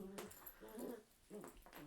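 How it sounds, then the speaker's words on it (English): Dogs from the Dark Souls video game, in New Londo before a boss fight, bark and yap in a few sharp, close bursts with whimpering tones, separated by a brief lull. "Now it's the good time to start barking and yapping."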